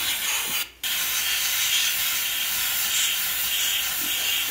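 An airbrush sprays touch-up paint, a continuous close hiss of air broken by one short pause near the start, then steady again.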